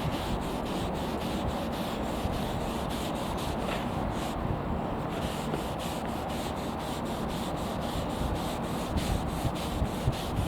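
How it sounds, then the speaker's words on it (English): A damp cloth rubs cleaner over a boat surface in a continuous, close scrubbing swish, even and rhythmic throughout with no talking. "and apply with the damp cloth. Now, I'm not rubbing too hard."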